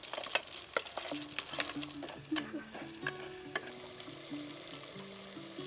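Crabs coated in turmeric, chili powder, ginger-garlic paste, lemon juice and salt fry in oil, giving a steady close sizzle with intermittent stirring clinks and scrapes throughout, no talking.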